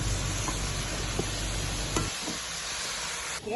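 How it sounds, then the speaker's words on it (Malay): Grated coconut frying in a pan and being stirred, with a steady close sizzle and light scraping knocks. A low rumble drops away partway through while the frying hiss continues. "Gaul kelapa hingga menjadi warna kekuningan"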